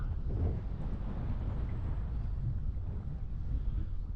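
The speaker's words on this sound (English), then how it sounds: "I'm just getting blown around like crazy in this wind." Strong wind buffets the microphone in a steady, roaring low rumble that persists throughout with no voices.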